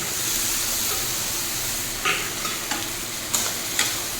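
Cut potatoes frying with fish head and spices in a pan, a steady close sizzle broken by several sharp spatula scrapes as the mixture is stirred, with no talk.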